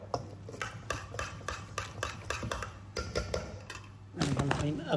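A spoon clinks and scrapes in a bowl as a fish marinade seasoned with ajwain is mixed, sounding as repeated close taps and scrapes under a woman's speech, with the voice growing louder near the end.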